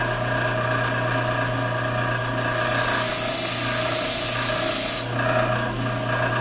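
A lathe bit is ground on a bench grinder, with a steady motor hum throughout and a loud, bright rasping grind for about two and a half seconds as the steel meets the wheel, close by.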